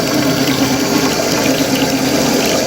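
Milk pouring from the top chamber of a cream separator machine into its bowl, a steady loud liquid rush with constant splashing and no pauses.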